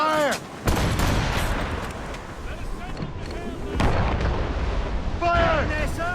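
Naval cannon volleys boom repeatedly from a sailing warship in Assassin's Creed Rogue, heavy blasts rumbling and overlapping across a sea battle, with voices shouting over the gunfire.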